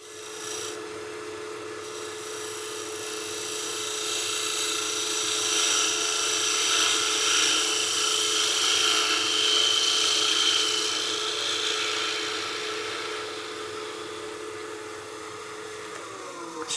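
Wooden block head spinning on a wood lathe while a tool recuts its face to remove tear-out, giving a steady scraping, rasping hiss with a constant motor hum that swells in the middle and eases off, loud and close with no talk.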